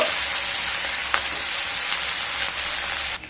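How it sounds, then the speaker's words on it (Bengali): Onions and crushed garlic fry in a pan for a vegetable dish, giving a steady, close sizzle with faint stirring scrapes and no voices. "পেঁয়াজ আর রসুনকে হালকা ব্রাউন কালার করে ভেজে নেব।"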